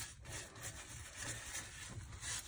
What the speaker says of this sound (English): You can scrub up on the toes. Have a little scrubbing.